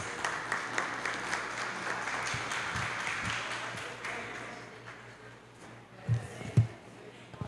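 A crowd at a union election event applauds to welcome a speaker to the stage. Steady applause at moderate distance for several seconds gradually fades, followed by a few isolated thumps and knocks.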